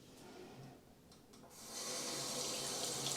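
Water runs from a Damixa Arc kitchen tap, starting as a soft trickle and then swelling into a steady, close stream into the sink.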